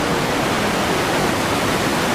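The fast-flowing Kali river along the Adi Kailash route, its waves crashing against rocks, makes a loud, unbroken rushing roar that stays constant from start to finish, with no other sounds.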